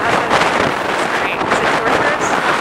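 Wind rushes through an open car window, a loud, steady broadband roar with buffeting on the microphone throughout.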